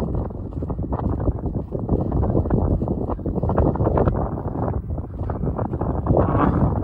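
Strong, steady wind buffets the microphone on a hilltop left bare on all four sides, a loud continuous low roar with gusty surges and no voices.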